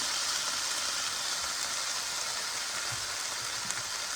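Onions sizzle and fry steadily in a pot for goat stew, a constant dense hiss with faint crackles, close and moderately loud with no talking.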